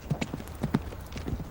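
A horse ridden by a Norman-style cavalryman with a kite shield clip-clops in a quick, uneven rhythm of hoof strikes, moderately close, with a faint snort and no clear talking.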